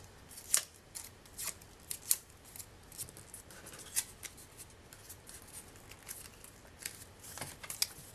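Scissors trimming a small piece of Stampin' Up Berry Blossoms designer paper, a quiet close series of crisp irregular snips and rustles with no talking.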